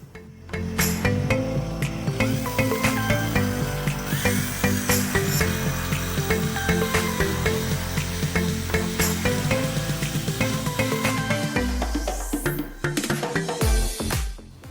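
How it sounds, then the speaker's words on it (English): A small piece of copper being drilled, a steady high-pitched whine of a small rotary drill running continuously before spinning down near the end. "And then drill a hole at the top center."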